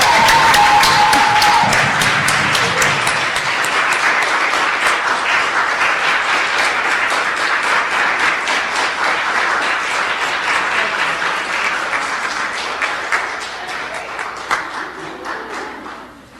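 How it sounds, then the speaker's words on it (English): An audience at a nursing graduation ceremony gives a long round of applause, loud and dense at first and thinning gradually toward the end, with a brief cheer early on. "let's give each other a round of applause"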